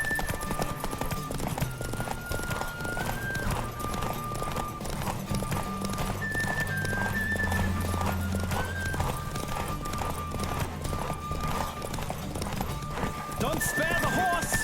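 Galloping horse in The Witcher 3 during a horse race, rapid hoofbeats pounding steadily under game music, with brief neighs and voices talking over the ride.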